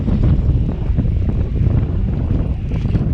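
Strong wind buffets the microphone on a power plant lake while fishing from a boat. The roar is loud and continuous, with low rumbling gusts and a faint wash of water.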